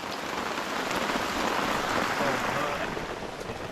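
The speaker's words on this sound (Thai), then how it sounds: "ฝนก็ยังตกอยู่ตอนนี้" Rain falls steadily outdoors, a close, constant patter and hiss on surfaces, even in level throughout with no voices.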